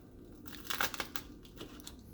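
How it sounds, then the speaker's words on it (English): Faint crisp crunching and crinkling as a crunchy hash brown is handled, a few brittle bursts over a quiet background. "You guys hear how crunchy the hash brown got."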